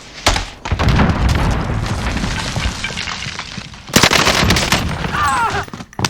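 Rapid bursts of M1912 Thompson submachine gun fire in Call of Duty Warzone, loud and close, with a sustained volley, a pause, then a second sharp burst, mixed with game combat noise.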